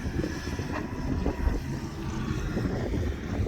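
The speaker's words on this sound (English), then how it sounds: "Another windy day on the soon-to-be homestead." Steady, blustery wind buffets the microphone outdoors on rural homestead land, a continuous low rumble with no talking.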